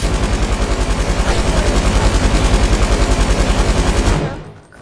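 Light machine gun in a video game firing a sustained rapid automatic burst, loud and close with steady rhythm for about four seconds before cutting off.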